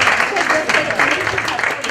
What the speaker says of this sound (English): Everyone clap for Ekta.